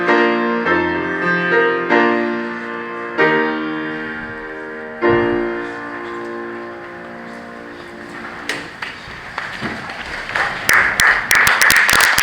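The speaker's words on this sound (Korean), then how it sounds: "박수를 먼저 치시네요." A church congregation at the opening worship of a denominational general assembly breaks into scattered clapping near the end, following a long sustained musical passage of held organ-like tones.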